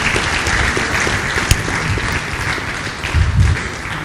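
A lecture hall audience applauds Professor Patrick Utomi at an annual lecture, a steady, dense round of clapping from many hands, close and loud, swelling slightly near the end.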